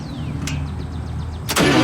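A 1953 Chevrolet Corvette engine being started on choke: a brief quiet whine of the starter, then the engine catches with a sudden loud burst and settles into a steady running roar.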